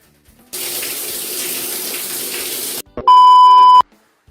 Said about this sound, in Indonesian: Oke, kita cuci muka yuk.